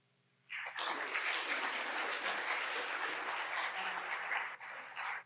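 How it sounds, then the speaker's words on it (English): Audience at a partnership conference's welcome remarks breaks into sudden, sustained applause that holds evenly for about five seconds before stopping. "we're going to start clapping"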